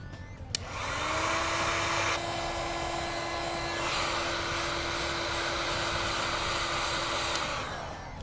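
A heat gun shrinking a butt connector during a 12-volt outlet install, starting with a click and then blowing a steady, loud whirring hiss for several seconds before it winds down.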